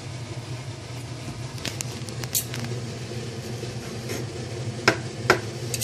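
Chicken cooking in a pan after sauce is added, a soft, steady sizzle under a low background hum, with a few sharp clicks of utensil stirring against the pan.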